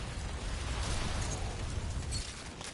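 Dense, continuous rumbling blasts with crackling bursts, loud and sustained, from explosive shots that set enemies on fire in Remnant: From the Ashes.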